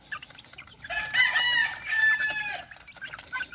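Chicks and chickens on a farm raised on a moringa-based feed, giving bursts of clucking and squawking calls, loud and close, rising and falling in a few overlapping runs with no talk over them.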